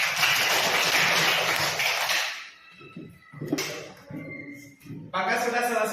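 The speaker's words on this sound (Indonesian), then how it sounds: "Kita berikan tepuk tangan." Classroom group applause: a dense burst of clapping from students for about two seconds, then it stops and a voice speaks.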